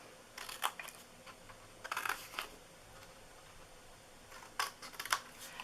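Scissors snipping through paper while making a zoo-themed birthday treat box, in several short bursts of crisp close cuts separated by quiet pauses, with no voices.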